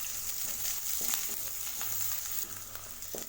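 Garlic and onion sautéing in a pan for a green gram dal curry, with a steady close sizzle and faint crackle broken by occasional soft stirring clicks, no talk.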